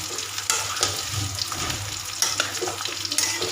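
Teasel gourd and prawns sautéing in a pan with spices, a steady low sizzle under periodic stirring scrapes and knocks, close and moderately loud with no talking.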